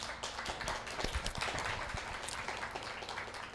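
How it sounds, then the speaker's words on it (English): Audience applause at a chamber of commerce lunch-and-learn event, a steady patter of many hands clapping throughout, moderately loud and close. "Let's give him a round of applause."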